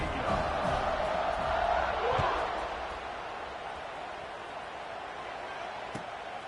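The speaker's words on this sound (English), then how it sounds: "this crowd is buzzing after that last score" A football stadium crowd at USC vs UCLA buzzes after a score, a broad steady roar that swells and then fades to a lower murmur, with an announcer talking over it.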